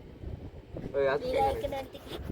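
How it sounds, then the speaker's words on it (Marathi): Cool wind blows in gusts, rumbling steadily against the microphone, with a voice briefly heard over it. "पूर्ण गार वारा येते"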